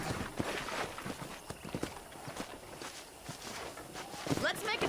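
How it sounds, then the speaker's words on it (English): Horse hooves clip-clop at a steady walking rhythm in Red Dead Redemption, with ambient game sounds and occasional voices around them. "let's see if you can still ride a horse"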